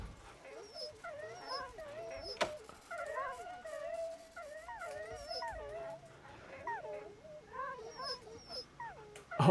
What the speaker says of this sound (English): What's wrong with the dogs?